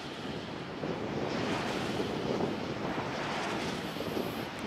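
Strong storm wind buffets the microphone at a wind farm with Vestas V150 and Eno126 turbines during storm Eugen, a steady broadband roar with no talk.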